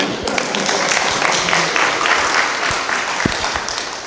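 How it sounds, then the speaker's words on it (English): An audience at an alumni association tea affair claps in a burst of applause that fills the room at steady volume, with a few louder individual claps standing out near the end. "I thought that would be thunderous applause"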